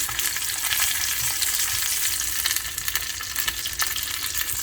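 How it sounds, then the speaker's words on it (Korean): Steady, dense sizzling and crackling of butter frying in a hot pan, continuous and close with small pops throughout, no voices. "기름 튀는 소리가 들리고 있습니다"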